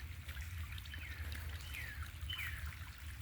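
Rainwater runs down a residential yard behind a driveway like a small stream, a steady trickling flow with a low rumble underneath and faint bird calls in the background.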